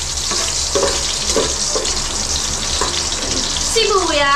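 Garlic frying in a pan: a loud, steady sizzle with rhythmic stirring scrapes, and a brief voice rising near the end.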